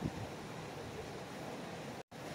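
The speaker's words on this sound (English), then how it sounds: "This is the dam at the Fish Hatchery. Look how much water's coming down that thing." Water pouring heavily over the Fish Hatchery dam, a steady broadband roar with wind buffeting the microphone, broken by one brief dropout near the end.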